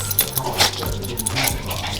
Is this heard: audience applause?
no